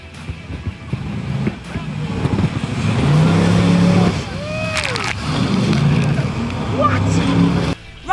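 A jet boat on white-water river rapids near Taupo, New Zealand roars steadily close by, with sloshing and splashing water and a person speaking over the engine.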